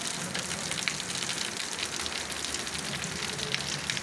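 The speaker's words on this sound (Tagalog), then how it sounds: "maulan na Thursday po" Steady rain falling on a wet Thursday morning, a soft even hiss with scattered patters, constant and fairly faint throughout with no talk.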